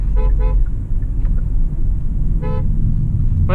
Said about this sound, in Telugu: దీంట్లో డ్యూయల్ హారన్ ఇచ్చారు